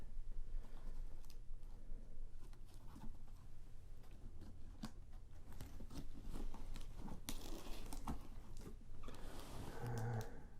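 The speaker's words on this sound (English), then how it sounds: "Let's get as much of the tape off as possible without ripping the paper." Old packaging tape on the box of a vintage Sanyo FT863M car 8-track player being peeled and pulled off paper, with close crackling, tearing and rustling bursts over about ten seconds and no talk.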